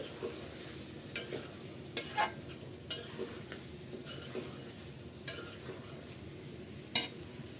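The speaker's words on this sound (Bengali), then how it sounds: "ডালটাও ভালো করে আমি এর সাথে কষিয়ে নিচ্ছি" Boiled chickpea dal is fried and stirred in a pan, with a faint low sizzle under repeated scraping strokes of a spoon that land irregularly throughout.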